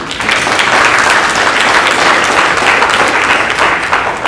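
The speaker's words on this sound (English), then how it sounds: "Give yourselves a round of applause" A banquet audience at an end-of-year gathering bursts into dense, steady applause that holds at full strength throughout, a close wash of many hands clapping together with no clear gaps.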